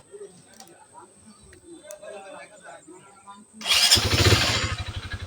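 A used motorcycle with an electric self-start fires up after a quiet stretch with faint background sounds, then settles into a loud, close, rapidly pulsing idle.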